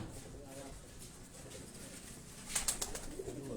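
Pigeons, including a black-faced flying pigeon in a rooftop loft in Gulshan-e-Maimar, Karachi, coo softly in low murmurs, with a brief louder burst near the end over steady background noise.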